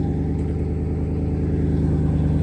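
A twin-turbo Coyote V8 car on drag slicks driving through snow, its engine a steady, close, deep rumble that rises slightly in intensity without breaks.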